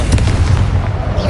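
A Confringo blast spell in Hogwarts Legacy bursts with a loud, low, rumbling boom that fills the short moment.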